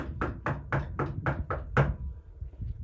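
Seven quick, firm knuckle raps on a front door sound close and evenly spaced, followed by quiet room tone.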